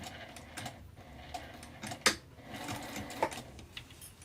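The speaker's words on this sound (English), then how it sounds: "Back stitch a little bit." Sewing machine back stitching while making a wristlet, a few short quiet mechanical runs and clicks with one sharper tick near the middle.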